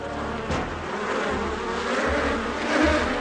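A swarm of cartoon insects buzzes steadily and loudly around a hiding spot, a dense continuous drone that swells slightly toward the end, with no voices over it.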